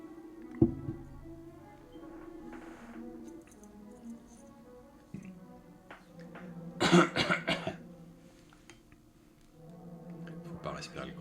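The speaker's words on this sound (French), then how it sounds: "Faut pas respirer le coca, ça fait tousser." Someone coughs after inhaling cola: a sharp single cough near the start, then a louder cluster of harsh coughs and throat clearing a few seconds later, with quieter noises in between.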